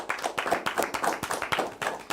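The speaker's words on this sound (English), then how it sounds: "Can you please also give yourself a round of applause?" Hand clapping from the audience at a TV accounting quiz show in Nigeria's South-West region, with steady, moderately quiet claps that continue evenly for a couple of seconds.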